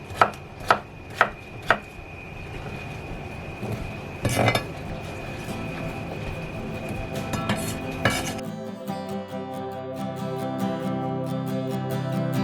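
Food chopped into chunks on a cutting board for frying: four sharp, evenly spaced knife strikes, then a steady run of busy kitchen clatter and clinks, and finally a quick, rapid series of chopping taps.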